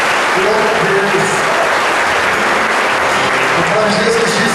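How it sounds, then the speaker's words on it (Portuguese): Church congregation at a worship service applauding together, a dense, loud, continuous wash of clapping that fills the space without pause. "Vamos aplaudir a Deus mais uma vez."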